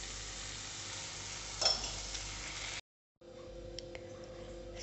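A tadka of Schezwan chutney and a pinch of black pepper sizzles steadily in a pan as it is stirred, with a brief louder flare of stirring and a short silent break before the sizzle resumes more quietly.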